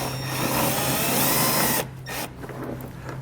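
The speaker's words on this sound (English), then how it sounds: "we're just going to take a self-tapping screw here, just going to attach it to the bottom face of this bumper fascia here" A power drill runs steadily, driving a self-tapping screw into the bottom face of a 2020 Chevrolet bumper fascia, then stops abruptly, leaving quieter handling noise.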